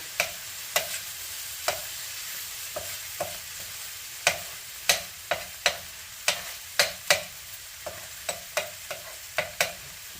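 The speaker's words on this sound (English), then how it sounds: "we'll put our chorizo right in the middle of the pan. Get it cooking" Chorizo cooking in a skillet for a homemade Mexican breakfast hash, with a steady low sizzle broken by a string of sharp utensil scrapes and taps against the pan, close and fairly quiet, no voices.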